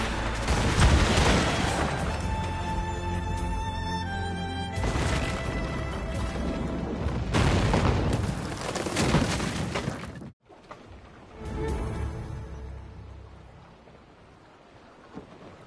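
Heavy cannon volleys boom from naval ships in Assassin's Creed Rogue, several loud, rumbling blasts with long crashing decays over wind and sea, a brief cutout midway, then a fainter rolling boom.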